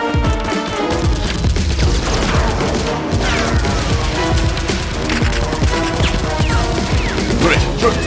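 Toy Nerf guns fire foam darts in a busy indoor play battle, with repeated popping shots and clattering under constant loud background music and shouting voices.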